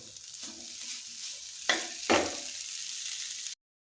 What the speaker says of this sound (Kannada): ಇದನ್ನ ಇವಾಗ ಸರ್ವಿಂಗ್ ಬೌಲಿಗೆ ಹಾಕೋಣ.